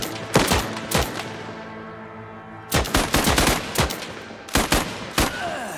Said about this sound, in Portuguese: Vamos lá, todo mundo atira.